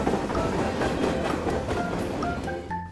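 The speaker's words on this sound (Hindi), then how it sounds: "एक रेलवे स्टेशन में जब ट्रेन जा रही थी" Train moving through a railway station, a steady rumble of rolling wagons with a few brief tonal squeals near the end, continuous and fairly close, no voices.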